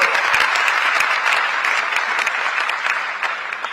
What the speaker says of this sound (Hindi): इसलिए चाहूंगी कि एक बार जोरदार तालियां आप सभी के लिए।